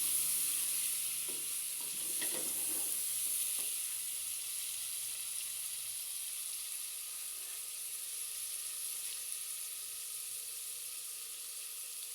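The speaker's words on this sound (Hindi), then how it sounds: "ब्राउन हो रहा है प्याज। टमाटर डाल दिए, टमाटर" Tomatoes tossed into browning onions in a pan, giving a steady close sizzle with a few stirring scrapes early on, settling into an even hiss.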